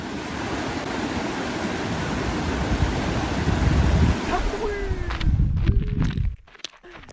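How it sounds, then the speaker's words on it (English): Strong wind on the Pacific Crest Trail roars in a broad, steady rush across the whole clip, gusting louder midway, then dropping off abruptly near the end. "It's getting pretty windy"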